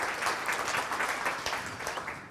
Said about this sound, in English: please give a loud applause to Eric Newcomer